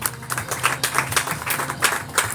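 A church congregation breaks into applause during a Spanish-language sermon, a steady patter of many hands clapping close by, with no voices over it.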